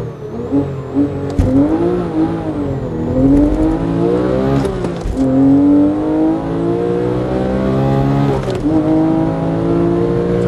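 Sports car launching hard after a clutch dump, engine roaring and climbing in pitch through several gear changes, with brief breaks between gears as it accelerates, loud and close with no talking.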